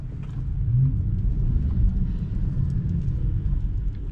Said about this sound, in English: I love having an electric car in the city though.